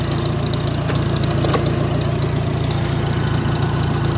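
A Farmall 350 tractor engine idles steadily with a low, even rumble, close and loud and unbroken, with a woods 208 bush hog cutter attached and no talk over it.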